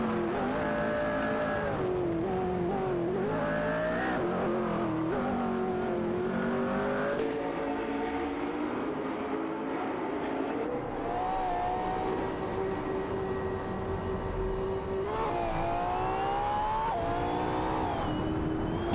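Race cars in a racing video game, engines droning continuously with layered rising and falling rev pitches as cars accelerate and jostle for position, steady and loud throughout with no talk.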